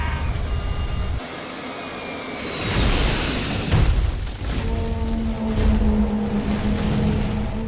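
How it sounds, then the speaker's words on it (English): An aircraft dramatized crashing into a hillside: a rumbling engine roar gives way to a deep, loud boom and crash, followed by a sustained low rumble with a steady tone. "Moments later, the aircraft plunges into the hillside."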